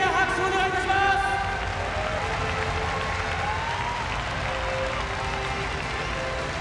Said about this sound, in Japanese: 皆様今一度盛大な拍手をお願いいたします。